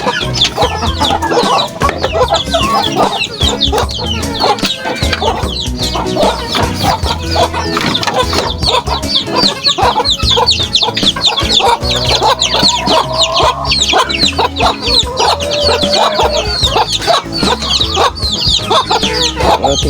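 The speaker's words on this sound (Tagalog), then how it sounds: "Ating mga manok" A flock of Rhode Island Red chickens clucks and squawks busily and continuously, loud and close, with overlapping calls filling the whole stretch.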